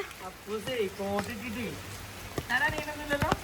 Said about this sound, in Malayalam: അപ്പു എങ്ങട്ടാ മഴയത്ത്